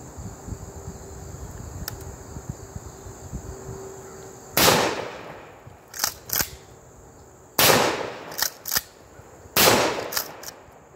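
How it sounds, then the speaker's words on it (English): Three sharp, loud blasts from a Stevens 320 12 gauge security model shotgun with a thumbhole stock firing Winchester number 8 shot outdoors, each followed by brief metallic clacks of the action, against a faint background hum. "This is a Stevens 320 12 gauge security model with a thumbhole stock using Winchester"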